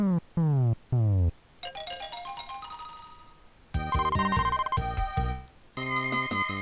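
A chiptune jingle from the video game Super Ninja Boy plays when the party rests at an inn, with bright electronic beeps and tones in short phrases, loud and up front with no talking.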